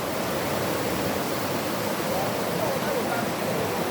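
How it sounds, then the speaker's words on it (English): Floodwater in Nigeria surges past with strong pressure, a loud, continuous broadband roar of rushing water that stays steady and close throughout, with no other sound breaking through. "Look at the pressure of the water."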